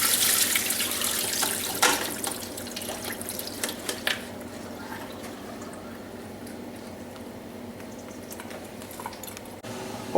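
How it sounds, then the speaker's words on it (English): Cooked, cooled cabbage draining in a colander at a kitchen sink, a steady close wash of running water with scattered drips and splashes that thins out toward the end. "At this point, I drain it in a colander."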